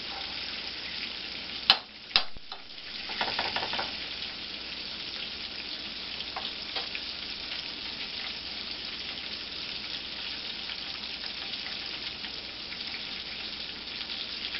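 Cube steak fries in a pan with a dense, steady sizzle throughout, broken early by a couple of sharp clanks and a brief burst of spattering as the meat is moved; no talking.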